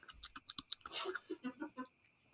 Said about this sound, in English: Can you hear me crunching now,